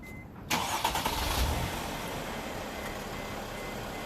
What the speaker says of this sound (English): now we go ahead and start her up and let her idle for 15 minutes